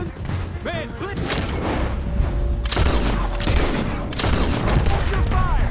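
Dense gunfire in Red Dead Redemption 2, rapid overlapping shots and booming volleys rolling on continuously, with shouted voices mixed in.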